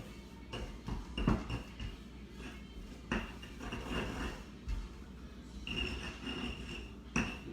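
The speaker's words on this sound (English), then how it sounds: "I'm just going to start smashing it into the molcajete and forcing that garlic into the butter" Garlic is mashed into butter in a stone molcajete, giving irregular heavy knocks and scraping grinds of pestle against rough stone, close and fairly loud with no talk.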